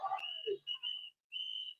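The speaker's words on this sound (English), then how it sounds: "The whistles are a new community tactic to alert people that ICE agents are in the area." Whistles blown by locals at a street block party to warn of ICE agents, several shrill, sustained blasts in quick succession, with brief voices mixed in at the start.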